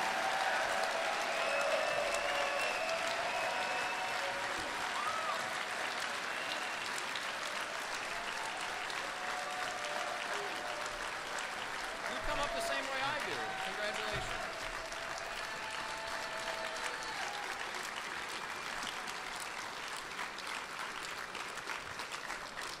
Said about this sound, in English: Everyone, please stand and give a round of applause for the nominee for President of the United States